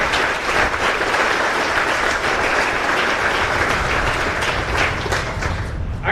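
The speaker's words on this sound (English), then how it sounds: "join me in a round of applause for the 428 leadership and soldiers that made it happen" An audience at a military competition's opening ceremony applauds steadily, a dense, loud wash of clapping sustained throughout with no talking.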